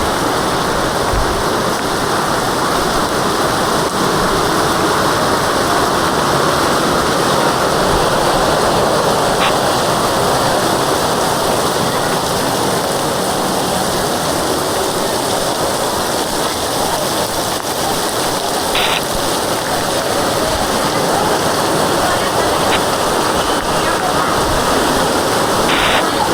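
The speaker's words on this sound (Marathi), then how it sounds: "गावाला पाऊस काय पडतोय बघा, मजबूत पाऊस पडतोय" Heavy monsoon rain pours steadily over a Konkan village, a dense, unbroken hiss of water on surfaces that holds loud and constant for the whole stretch.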